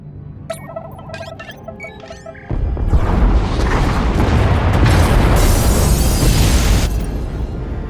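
A massive explosion destroys pod bays in Star Wars: The Old Republic, following electronic beeps and tones; a sudden loud roaring blast erupts and rumbles on steadily, filling the space with heavy debris-like noise.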